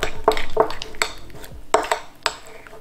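Glue-free slime made with dish soap is stirred in a container, giving a series of sharp clinks and scraping taps at an irregular rhythm, close and fairly loud, with no talking.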